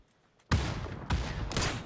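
Gunfire in a PUBG match: after a quiet half second, three loud, dense bursts of shots hit in quick succession, each a sharp broadband crack followed by sustained rattling, close and with no talking.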